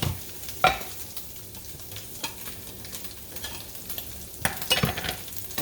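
Sausage browning in a frying pan on the stove, a low steady sizzle broken by a few sharp scrapes and clinks as it is stirred with a utensil.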